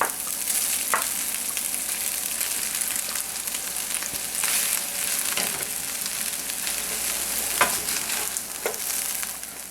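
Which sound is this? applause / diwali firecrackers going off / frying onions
frying onions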